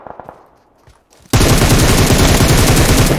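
Sustained automatic gunfire in PUBG Mobile on the Miramar desert map: after a quiet second of faint movement, a loud, dense burst of rapid shots erupts and continues without pause to the end.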